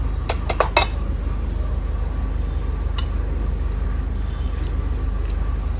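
A prasad offering being stirred and mixed in a dish for a home puja, giving scattered light metallic clinks and scrapes, a quick cluster at the start and then sparse taps over a steady low hum, with no talking.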